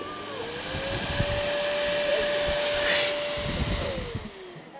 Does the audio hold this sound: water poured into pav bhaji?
no